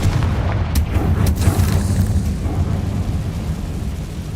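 A Confringo spell blast in the Hogwarts Legacy video game, a loud booming burst with sharp cracks early on, followed by a sustained rumbling roar that stays heavy and dense throughout.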